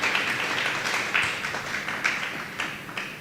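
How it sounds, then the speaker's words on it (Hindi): A church congregation clapping hands in praise to God, a steady rhythmic beat of claps roughly twice a second, fairly close and sustained without any speech. "ताली बजा के परमेश्वर को महिमा देंगे"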